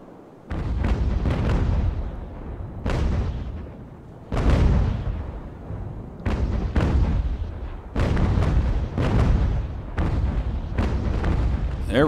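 Sailing-ship cannons boom in the naval battle game Ultimate Admiral: Age of Sail, heavy low blasts fired singly and in quick clusters with rumbling decays, about a dozen shots over the stretch.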